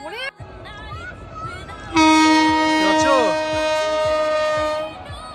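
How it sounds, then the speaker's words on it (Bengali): A Kulik Express train with red Vistadome coaches passing close by, its horn blaring loudly and steadily for about three seconds over the rhythmic clatter of wheels, with voices talking alongside. "পুরো রেড কালারের ভিস্তাদম কোচ দিয়ে যাচ্ছে, তার মানে এটা কুলিক এক্সপ্রেস"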